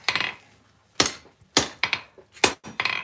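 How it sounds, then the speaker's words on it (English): Hot steel struck with a hammer while forging tongs, six sharp, loud ringing blows at uneven intervals, some in quick pairs, each followed by a short decay in a quiet forge. "and hammer that"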